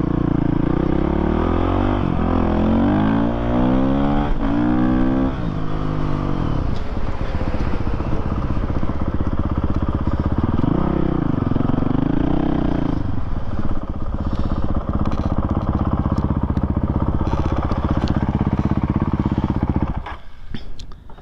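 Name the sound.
Honda CRF450RL motorcycle riding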